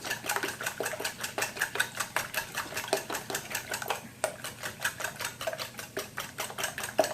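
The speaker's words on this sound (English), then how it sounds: "In this bowl, I have 12 eggs. I have a dozen eggs. And I'm just going to whisk them up really good." A dozen eggs being whisked in a bowl: a quick, steady run of light ticking strokes from the whisk against the bowl, close and fairly even for the whole stretch, with no talking.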